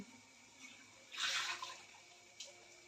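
Water is poured into a pan of dhaba-style lasuni methi curry with fenugreek leaves and besan paste: a single short splashing gush lasting about half a second, then a faint later trickle against a quiet background.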